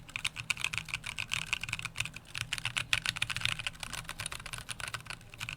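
Fast, continuous clacking of typing on a KBDFans D45 mechanical keyboard fitted with tactile switches, crisp, close keystrokes in a dense, irregular rhythm without any talking.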